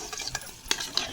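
A spoon stirs dried fish curry with tomato and chili powder in a home kitchen pan, giving a few soft scraping strokes over a faint sizzle, near and moderately quiet.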